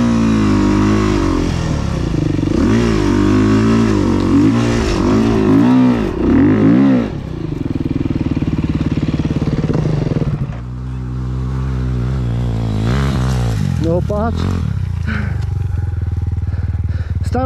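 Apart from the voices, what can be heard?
motorcycle engine revving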